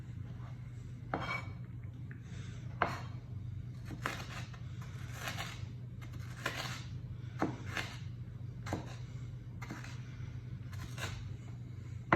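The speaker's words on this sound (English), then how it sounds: "Now you want to cut this up into small chunks, or big chunks if you like that." Knife chopping ingredients into chunks for guacamole, quiet repeated taps and clicks of the blade on a cutting board in an irregular rhythm over a low steady hum.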